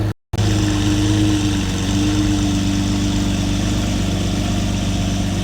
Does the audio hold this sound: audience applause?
no